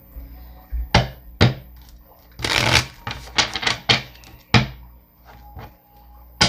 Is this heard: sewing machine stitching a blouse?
no